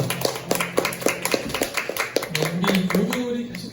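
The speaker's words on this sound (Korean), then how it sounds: "우리 하나님께 찬양의 박수 한번 드려보겠습니다" A Korean church congregation at a weekday worship service claps in praise, a steady rhythmic beat of many hands repeating roughly four times per second, with a voice speaking over it.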